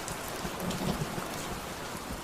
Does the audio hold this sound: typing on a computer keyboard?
no